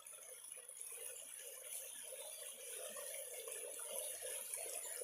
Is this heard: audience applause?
no